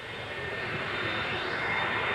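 A jet dryer passes along a rain-soaked NASCAR track during the 2000 thatlook.com 300, giving a loud, steady, close jet-engine roar that holds evenly and swells slightly toward the end, with no talk over it.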